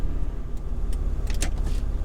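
A 1994 Toyota Land Cruiser FZJ80, a Japanese-market model, drives with a low, steady road rumble and engine drone and a few light clicks and rattles inside the cabin, with no talk.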